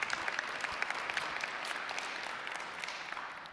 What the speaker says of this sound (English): Alyssa, if we could give her another round of applause.